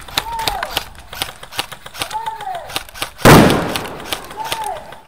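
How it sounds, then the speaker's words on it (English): Game launcher in UBG fires once with a sharp, loud broadband blast that decays over about a second, set among rapid gunfire-like clicks and pops in a busy game mix. "me using my launcher for the first time"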